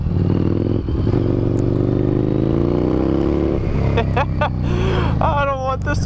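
A motorcycle engine runs loud and close with a rising pitch as it accelerates, rumbling continuously while a rider's voice breaks in over it near the end.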